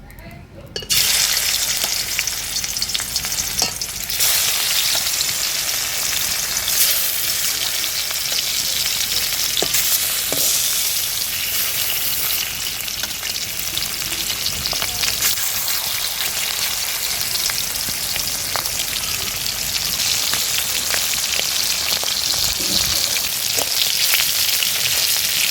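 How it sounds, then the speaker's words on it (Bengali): Hilsa fish sizzling and frying in hot oil, a steady, loud, dense crackle that carries on unbroken throughout, with occasional faint clinks and stirring. "তেল গরম হয়ে গেছে, মাছগুলো দিয়ে দেব।"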